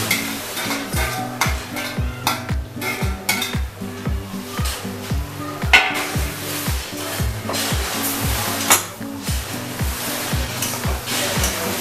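Fried capsicum and onion stirred through sizzling oil in a pan: brisk, rhythmic scraping strokes of a spatula against the metal, repeated steadily over a constant frying hiss, close and fairly loud, with no talking.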